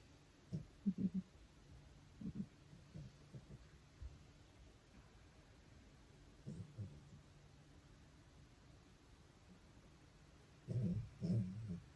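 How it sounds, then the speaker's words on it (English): Soft, low snoring breaths from a sleeping dog come in scattered bursts over a quiet background inside a camper van, with a louder cluster near the end. "if you hear snoring, it's our dog"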